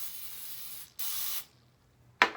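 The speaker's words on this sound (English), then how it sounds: "Use that cooking spray again." Cooking spray hisses into a measuring cup in a kitchen: two close sprays, the second short, then a brief click of the can.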